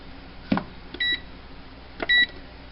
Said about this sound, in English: I'm just gonna set a timer for 1 hour.